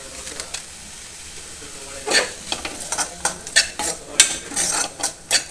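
Spoon stirring a bread toast topping mixture with herbs and chilli flakes in a pan, a run of close, irregular scraping strokes over a faint sizzle, growing busier in the second half.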